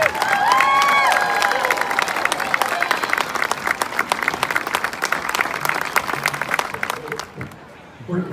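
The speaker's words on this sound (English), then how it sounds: "Let's give them a huge round of applause." A crowd at Atlantic High School applauds the 1964 football team with loud, dense clapping and some cheering. A faint voice and whistle-like tones come through early on, and the applause thins out and fades near the end.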